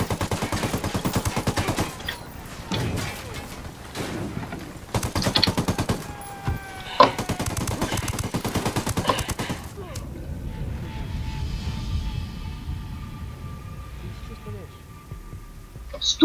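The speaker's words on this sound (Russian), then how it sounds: "я из винтовки стреляю" Rifle gunfire in Ghost Recon Wildlands: rapid, dense bursts of shots for about ten seconds, then the shooting stops and a low droning hum remains, with voices talking in the background.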